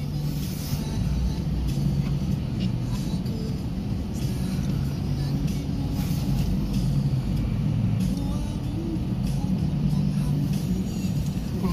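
Inside a bus stuck in a traffic jam in a bus-driving video game: a steady low engine idle and road rumble, constant and moderately loud, with no speech.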